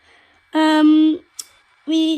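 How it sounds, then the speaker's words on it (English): Two short electronic guard buzzer tones from a Bachmann Class 350 model train sound nearby, separated by a brief sharp click, with quiet between them. "We've got the guard kind of buzzer thing."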